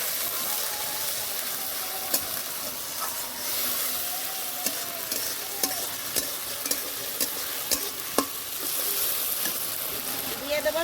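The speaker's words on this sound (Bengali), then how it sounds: "এবার মশলা দেওয়া জলটাও দিয়ে দেবো ভালো করে কষে নেবো" Spiced water poured into banana flower frying with spices in a pan, making a sustained close sizzle marked by rushing liquid, light scraping and repeated clicks of stirring.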